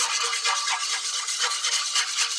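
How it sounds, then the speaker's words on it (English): Seasoning marinade for pork chops being whisked, a fast, steady swishing rhythm of whisk wires beating through liquid in a bowl, close and consistent, with no talk. "And you want to whisk this for about 2 to 3 minutes"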